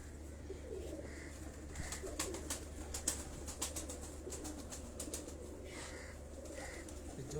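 Pigeons in a loft coo in soft repeated phrases, joined by scattered clicks and a brief flutter of wings, fairly close and without talk.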